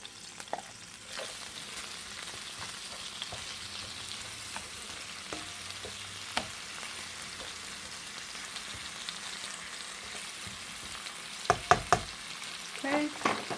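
Zucchini sizzles and crackles steadily in a hot frying pan, with occasional utensil clinks and stirring knocks, close up and with no talking over it.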